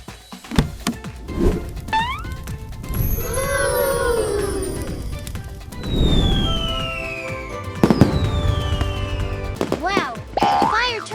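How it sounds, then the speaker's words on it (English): Cartoon-style fireworks: whistling rising tones, crackling bursts and sparkly pops repeat across the clip, with bright boings and playful effects mixed in. "Wow, fire turned into fireworks."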